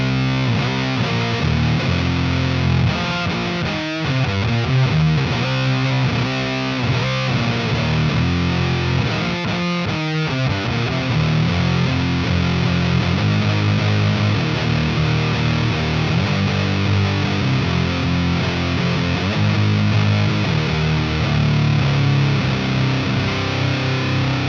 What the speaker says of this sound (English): Let's also hear it with the fuzz control up pretty high.